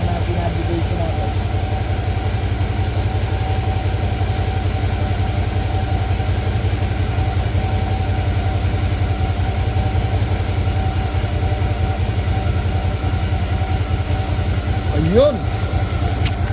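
A Suzuki V-Strom DL650 motorcycle engine idles steadily nearby, a constant low throbbing hum with a brief higher whine near the end, while a person talks quietly over it.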